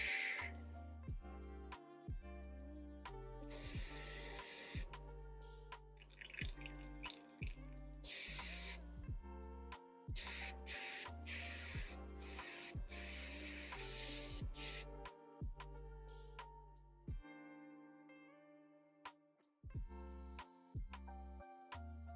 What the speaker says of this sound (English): Cleaning out the airbrush.